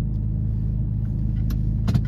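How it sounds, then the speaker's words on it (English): A small car's engine idles as a low, steady rumble while it parallel parks, with a few faint clicks and a brief knock near the end, heard close and without talking. "I'm about to do this cute little parallel parking my small little car"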